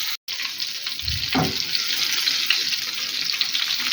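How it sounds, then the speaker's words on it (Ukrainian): New potatoes sizzle and crackle steadily in a hot pan, with a brief soft clatter near the start. No voice is heard. "І хай обсмажиться з однієї сторони."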